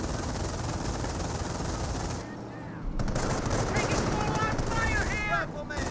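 MG42 machine gun fire in the WWII strategy game Company of Heroes rattles in dense, continuous bursts with heavy battle noise, easing briefly midway before surging back loud.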